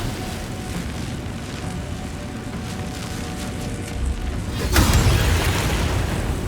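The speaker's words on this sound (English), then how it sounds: "I suppose we should Booming Blade this." A Booming Blade spell effect in Baldur's Gate 3, a sudden loud burst partway through that rises above a steady rumbling ambient bed and leaves a lingering boom-like wash afterward.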